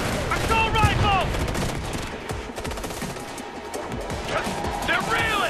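Sustained assault rifle gunfire rattles through a firefight in the video game Ghost Recon: Future Soldier, dense and continuous with voices shouting over the shooting.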